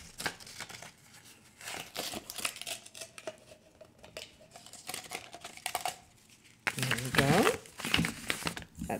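Plastic wrapping is peeled and crinkled off a sublimation-printed Star Wars mug in bursts of rustling and tearing, growing louder near the end, with some quiet background sounds between the handling.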